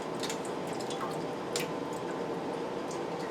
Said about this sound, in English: so you're going to drain off the excess liquid